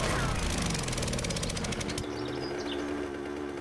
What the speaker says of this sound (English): And then we'll drop down and drill this guy out.